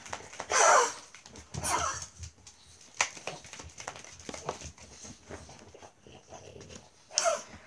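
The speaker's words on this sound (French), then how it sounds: "Bien sûr, mes chiens sont excités." Several excited dogs pant, wheeze and let out sharp barks or yelps in bursts, loud and close, with quieter snuffling and low growling between outbursts.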